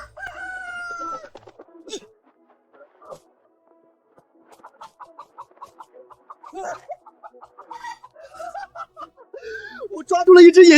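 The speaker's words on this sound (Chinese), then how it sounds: "我抓住了一只野鸡，今天晚上有鸡肉吃了。" A rooster caught on a mountainside squawks and clucks in agitated bursts, ending in a loud close crow-like cry, interspersed with people talking.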